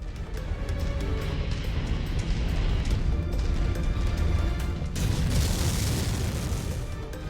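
Explosions and crashing destruction as a target is blown up in the MechWarrior 5 video game, a loud, sustained rumbling boom with a fresh blast surge near the end, no talk.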